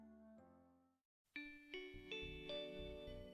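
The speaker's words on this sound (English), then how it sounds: "The last bell for the day sounds" A school bell rings at the end of the day, sounding as a series of bright, resonant electronic chime tones in a stepped sequence, clear and moderately loud after a soft fading tone and a brief silence.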